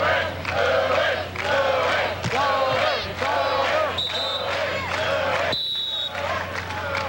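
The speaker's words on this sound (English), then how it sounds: "The chant going up." A crowd chants loudly in rhythmic bursts at the 1994 AVP beach volleyball final in Manhattan Beach, with cheering filling the stretch and a whistle cutting through near the end.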